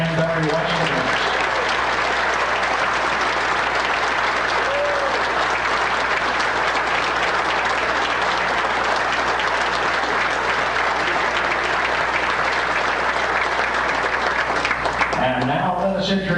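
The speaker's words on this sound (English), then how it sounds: "And now, ladies and gentlemen, you may applaud your Danbury Westerners." Steady, dense applause from a ballpark crowd greeting the Danbury Westerners baseball team, filling the whole stretch loudly and evenly before a brief tail-off near the end.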